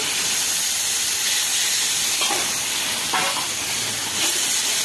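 Water poured onto ground turmeric, coriander, cumin, chili powder and salt in a hot pan raises a loud, steady steamy hiss that fills the whole stretch, with a few brief crackles on top.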